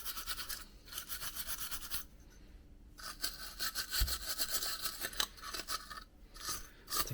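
Wire wool scrubbing rust off a vintage coffee grinder, close rapid rasping strokes in bursts with short pauses between them and a brief dull knock partway through.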